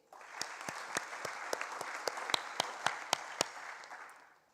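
Crowd applause at an Australia Day awards ceremony on the Sunshine Coast, a continuous bed of clapping with a close clapper's crisp, regular beats cutting through before it tapers off at the end.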